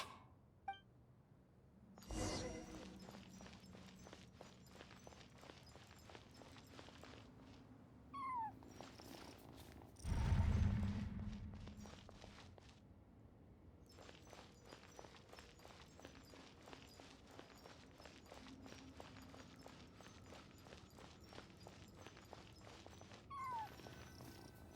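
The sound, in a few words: cat crying in video game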